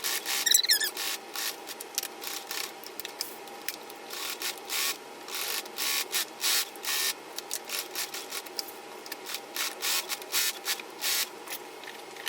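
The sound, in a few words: sewing machine sewing boxing strip onto pillow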